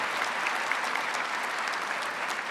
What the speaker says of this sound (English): I'd just like to ask you to give them a round of applause